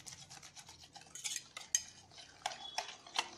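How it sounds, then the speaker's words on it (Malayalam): Cream being whisked by hand with a whisk in a bowl for a vanilla red velvet cake, a quick scraping, clinking rhythm of wire against the bowl with sharper taps now and then, close and steady, with no talking. "അതുകൊണ്ട് ഞാൻ വിസ്ക് വെച്ചിട്ടാണ് ബീറ്റ് ചെയ്യുന്നത്."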